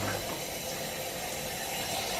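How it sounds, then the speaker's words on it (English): Warm water runs steadily from a tap into a sink, a continuous broadband rush with a faint hiss, close by and with no one talking. "I'm going to run some warm water in the sink and get the soil"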